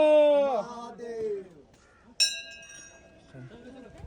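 A bright metallic temple bell strike rings out once and decays slowly at Tungnath Shiva temple, about 12,000 feet up, with a voice speaking before it and crowd murmur in the background.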